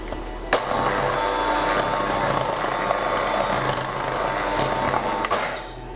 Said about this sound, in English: First you want to whisk quark with egg yolks,